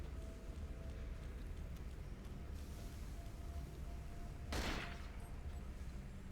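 A single gunshot cracks in the survival horror video game Cold Fear, a sharp burst midway through over a steady low rumble of game ambience.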